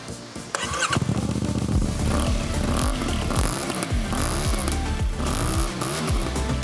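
A CFMOTO 450MT motorcycle engine fitted with an Akrapovič titanium exhaust with a stainless steel link pipe, running loud and close with repeated rising and falling revs throughout.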